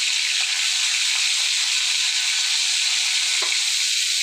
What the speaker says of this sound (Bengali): তো মাছটা ভাজি করে নিচ্ছি